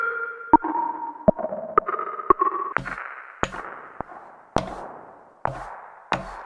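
A sharp, clicky sound smeared by a reverb effect into a scatter of separate, grainy echo taps, each hit trailing off in a gritty, broken-up reverb tail.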